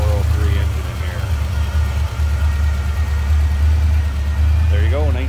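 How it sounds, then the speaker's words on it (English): A 1979 Pontiac Trans Am with a 403 engine and automatic transmission idles with a steady, loud low rumble throughout, while someone talks over it at the start and again near the end. "that's a 403 engine in here"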